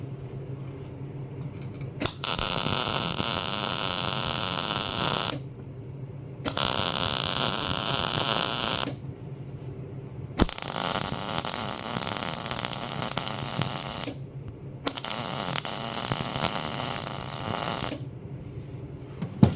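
Welding on custom fenders for a pink Jeep: loud, crackling, hissing arc bursts of several seconds each, separated by short pauses, with no talking.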